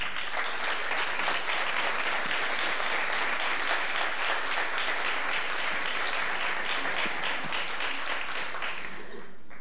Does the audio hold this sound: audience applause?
yes